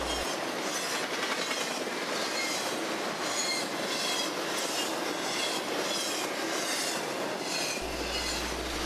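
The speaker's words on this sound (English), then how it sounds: "This is CSX train L113." A long CSX freight train, powered by a General Electric locomotive, rumbles steadily past nearby, its wheels clacking in a regular rhythm over the rails, loud and unbroken.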